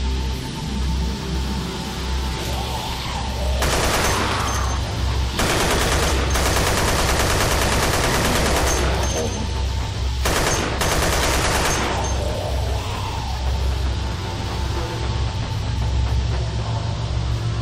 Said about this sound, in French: Je tire à la Rambo, les gars.